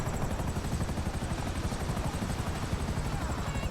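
Helicopter in GTA Online whirring with a steady, dense rotor thrum that stays loud and continuous throughout, with no talking.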